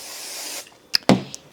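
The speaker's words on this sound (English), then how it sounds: "Now we're going to spray this part." A handheld spray bottle mists water onto sweatshirt fabric being prepared for appliqué embroidery, with a steady hiss of spraying followed by a couple of short, sharp trigger squirts, close and clear.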